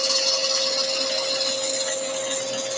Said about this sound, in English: just gently cut into there. We've got a nice new blade on our bandsaw.